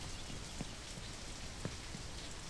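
Steady rain patters across surfaces in the climbing video game Only Up, a constant soft hiss with a few brief louder drops, heard alone without speech.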